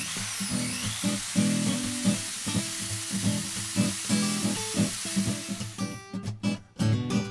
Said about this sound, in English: Now for the real test, cutting the gutter.